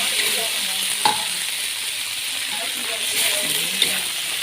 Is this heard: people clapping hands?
no